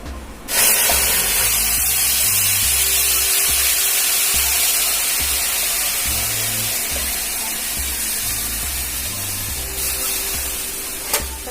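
Marinated chicken hits a hot kadai and sets off a sudden, loud sizzle that holds as a steady, close hiss for several seconds, easing only slightly toward the end.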